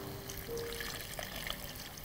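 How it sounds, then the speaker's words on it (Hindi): Water is poured into a pan of green coriander chicken masala, a steady close splashing and trickling for about two seconds with no talk. "पानी डाल देते हैं"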